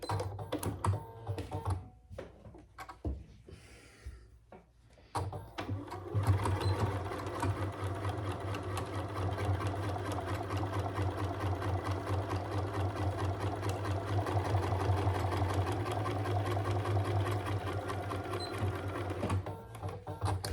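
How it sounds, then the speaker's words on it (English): A small domestic sewing machine with a 90/14 needle top stitches through several fabric layers of a folding wallet, starting with a few short bursts and then running in a steady, close, loud whirring hum for about fifteen seconds, with no talking. "we're gonna top stitch underneath on the wallet side under the flat, just 1/8 of an inch"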